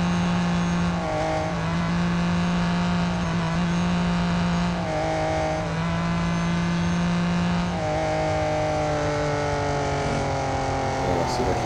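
A Ford GT racing at Le Mans in Real Racing 3 revs hard, its engine note climbing in pitch, dropping at each gear change and rising again, loud and close throughout.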